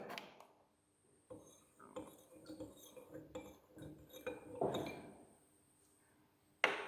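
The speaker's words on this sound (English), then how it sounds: "And in the other glass, I will mix some more amount of food color." A spoon stirs food colouring into water in a glass, clinking and tapping against the sides in a quiet, irregular run of small knocks, with a sharper clink at the end.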